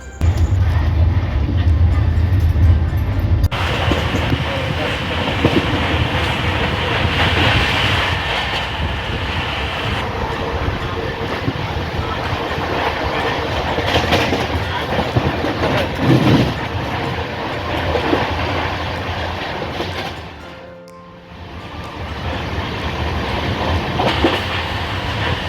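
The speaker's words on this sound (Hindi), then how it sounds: "मात्र 2 मिनट के बाद ये ट्रेन यहाँ से निकल जाएगी दोस्तों।" The Utkal Express passenger train runs on rails with a loud, steady rumble and rattle of carriages, heard up close from on board, briefly dipping before the noise builds again.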